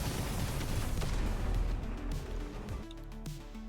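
Kyle's bomb barrage ability in a video game, heard as a dense, continuous rumble of overlapping explosions that stays loud throughout and thins slightly near the end.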